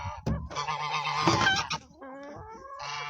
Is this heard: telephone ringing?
no